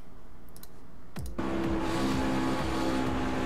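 A race car in the iRacing sim at Auto Club Speedway: a few faint clicks, then a sudden loud engine roar that rises and holds at high revs as the car passes close.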